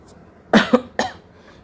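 Three short, sharp coughs close to the listener, the first two in quick succession and a third after a brief pause, with quiet between.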